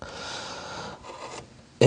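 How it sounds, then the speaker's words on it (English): Small number 11 gouge, 4 millimeter, cutting fine detail into a wood carving: a close, steady rasping scrape for about a second, then lighter scraping strokes, ending with a sharp knock. "I'm going to take a smaller gouge, my number 11 and a 4 millimeter,"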